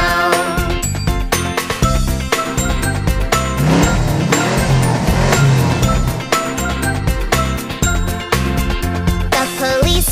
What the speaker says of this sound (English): The police car engine goes vroom, vroom, vroom.